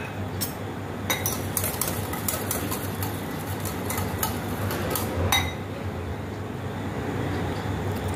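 A mixture for Gopal Kala whisked with a pinch of salt and a little sugar: quick, repeated clinking of a utensil against a bowl over a steady low rumbling background, with a louder knock near the end.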